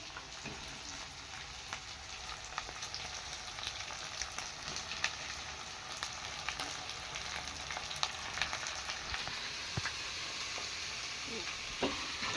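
Chicken pieces frying in a pan for an Oscar chicken recipe, with a steady, dense sizzle running throughout and occasional scrapes and clicks from stirring.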